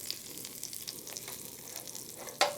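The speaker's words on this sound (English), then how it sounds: "Listen for the sizzle." Shrimp searing in very hot oil in a pan, giving a steady, soft sizzle and crackle with a sharper spatter near the end, heard alone at low level.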